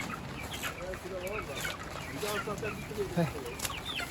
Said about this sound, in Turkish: Civcivlerimizi oraya bıraktım.